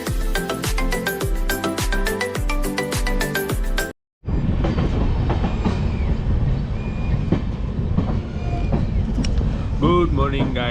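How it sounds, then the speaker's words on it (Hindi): A moving train rolls along the rails in India, heard from inside the carriage as a loud, continuous rumble with faint clatter, preceded by a few seconds of music before a short cut. "तो मैं अभी हूँ ट्रेन में"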